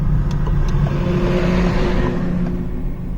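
A Peugeot engine with a robotic gearbox runs steadily at a low, even idle rumble, close and constant throughout with no talking.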